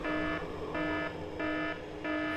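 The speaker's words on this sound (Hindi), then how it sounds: "वहां फायर अलार्म बज रहा है" A fire alarm rings in repeating electronic buzzing bursts, four evenly spaced tonal pulses with short gaps, steady and moderately loud with no voices.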